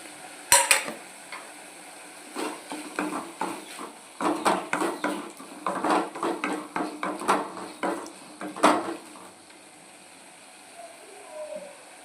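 Spices stirred into frying ginger garlic paste in a pan for prawn fry: scraping spoon strokes and clinking against the pan, with a soft sizzle, in bursts of rapid stirring, then it quiets near the end.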